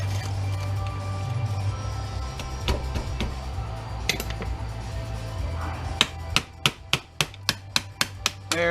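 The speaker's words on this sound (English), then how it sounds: "Let's see if I can get this gold corner chip off with my chisel." Metal chisel on rear projection TV parts, prying off a gold corner chip: a run of sharp, evenly spaced taps and clicks toward the end, close and fairly loud, after scraping and rubbing over a low hum.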